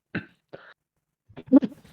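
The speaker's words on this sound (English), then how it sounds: "let me cough directly into my mic" Someone coughs directly into a microphone, two short, close coughs followed by a rougher cluster of throat-clearing sounds, loud against near silence.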